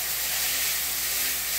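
Asafoetida, cumin and other spices fry in hot oil while being stirred for a raw-mango chunda, giving a continuous, even, moderately loud sizzling hiss with no talk.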